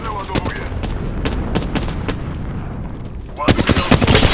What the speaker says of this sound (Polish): zaraz zacznie się ostrzał